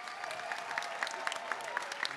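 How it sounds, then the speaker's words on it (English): Warm audience applause at a motivational business convention, a dense steady patter of many hands clapping at moderate volume, with a few louder claps standing out and no talk over it. "please give a warm round of applause"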